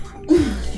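A single short sneeze burst, close and fairly loud, from a person watching an anime episode indoors, followed by a lingering low breathy tail.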